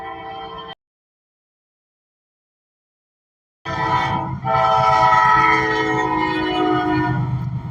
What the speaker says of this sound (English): Another intermodal.